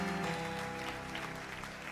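A church congregation applauds in a continuous, dense wash of clapping, moderately distant and fairly quiet, with a faint murmur of voices underneath.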